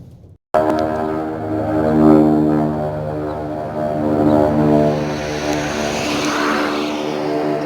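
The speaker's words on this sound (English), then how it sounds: "I know it's a plane, but where'd it go?" A propeller airplane flies overhead, its loud droning engine holding close and steady after an abrupt start, the harmonic hum swelling and easing as it passes.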